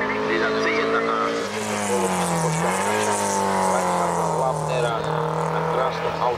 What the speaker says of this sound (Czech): Auto Mini Cooper S 1275 krásný zelený a velmi rychlý.